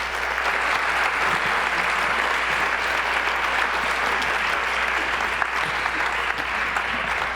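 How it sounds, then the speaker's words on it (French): A roomful of people at an annual general meeting claps continuously, dense and evenly loud applause lasting several seconds over a low steady hum, with no one speaking. "Et sous vos applaudissements, bien évidemment."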